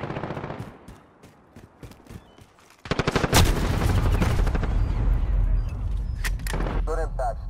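Call of Duty Modern Warfare combat with rapid bursts of automatic gunfire, sparse shots at first, then a loud sustained barrage of machine-gun fire and heavy impacts.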